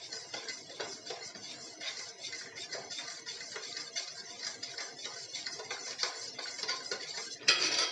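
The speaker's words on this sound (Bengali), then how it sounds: "মিশিয়ে নিতে হবে তেলটা।" A utensil briskly mixes oil into eggless orange cake batter in a bowl, giving steady, rapid clicking and scraping strokes close by, with a sharper clink near the end.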